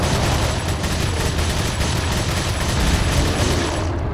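A TMP submachine gun fires in Resident Evil 4, a dense continuous rattle of rapid shots with booming game effects, loud and unbroken for the whole stretch with no talk.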